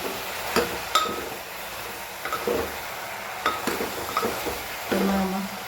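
Stirring pizza ingredients in a pot: a spoon scrapes and clinks against the metal in scattered strokes, close and moderately quiet.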